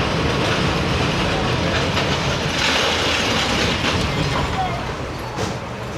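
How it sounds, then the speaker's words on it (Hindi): The Karakoram Express, on a Lahore flood-diversion journey, slows to a halt with a loud, continuous rumble of rolling rail cars and wheel clatter that eases slightly toward the end. "अभी यहाँ पे रुक रही है ट्रेन"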